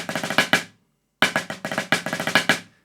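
Snare drum plays the second line of the Troopers 2022 drum corps snare break, crisp rapid strokes and accented hits in two bursts separated by a brief silence, close and alone.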